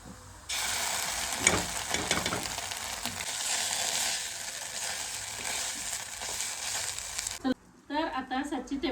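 Chopped onion frying in a pan for a village-style paneer masala gives a loud, steady, close sizzle that runs almost unbroken for about seven seconds, then cuts off abruptly, followed by a few soft clatters.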